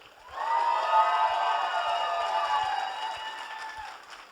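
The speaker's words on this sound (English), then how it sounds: "Another round of applause" An anime convention audience at opening ceremonies cheers and whoops, a sustained crowd roar of voices rising and fading over several seconds.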